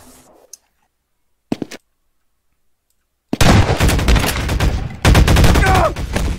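Shotgun fire in the multiplayer shooter Half-Life 2 Deathmatch: a couple of brief clicks, then a loud, dense stretch of rapid blasts and impacts lasting about three seconds, close and intense.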